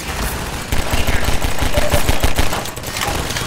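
Pistol gunfire in the video game Half-Life 2 comes as a loud, rapid volley of cracking shots in quick bursts, with a voice faintly mixed in.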